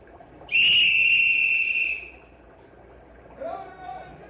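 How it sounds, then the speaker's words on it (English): A loud, steady shrill whistle blast lasting about a second and a half, followed by a fainter, wavering whistle tone over background noise. "Blow whistle, Tony."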